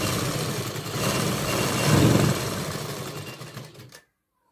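Sewing machine running steadily while stitching the sleeve of a kurti, a fast continuous mechanical whir that swells slightly in the middle and then stops abruptly near the end.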